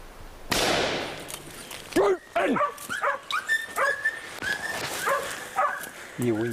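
A hunting dog out in the hills gives a burst of loud barks and yelps close by, along with whimpering and higher yips, mixed with a gust of wind or rustle at the start.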